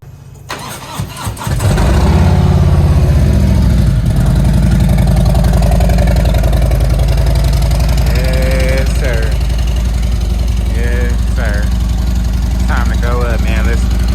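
A Harley motorcycle engine cranks and catches, then settles into a loud, steady, rumbling idle close by, with a person talking briefly over it.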